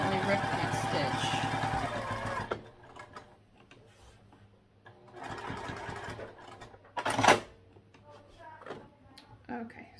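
A sewing machine stitching a crossbody bag on a short stitch length, a fast rapid whirring run at first, then quieter bursts of stitching between pauses and handling noise, with a person talking at times.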